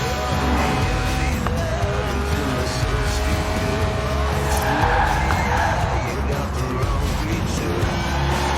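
A high-revving 1.8-litre, 190-horsepower sports car engine, revving to 8,000 RPM, screams steadily on a track, with tires squealing and skidding, loud and close throughout.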